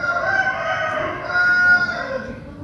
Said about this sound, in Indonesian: Ini ayam kayaknya